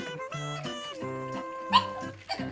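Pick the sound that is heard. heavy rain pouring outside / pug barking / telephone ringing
pug barking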